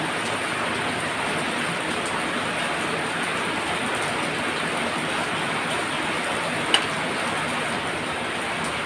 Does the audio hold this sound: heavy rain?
yes